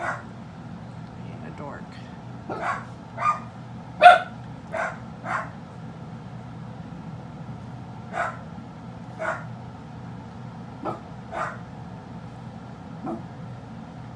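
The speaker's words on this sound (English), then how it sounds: "One dog barks, they all bark." A dog barks in scattered short bursts, several close together then sparser, over a low steady hum while a person talks.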